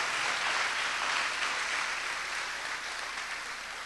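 A church congregation gives a strong round of applause to the Lord during a sermon, a dense, even roar of many hands clapping, loud and sustained throughout with no voices over it.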